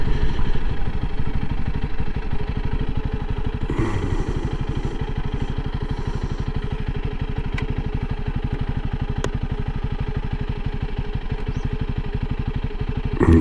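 A 2021 Honda CRF 300L Rally motorcycle idles up close outdoors, a steady even single-cylinder thump with mechanical clatter and a brief rev, no talk over it.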